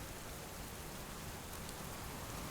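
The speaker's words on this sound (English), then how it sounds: "The water will be topped up by the rain, which is awesome." Steady rain in the survival game Subsistence, a dense, even hiss of falling drops that stays constant throughout with no voices.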